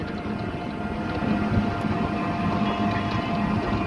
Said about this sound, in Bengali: আর বিশাল হাওয়া দিচ্ছে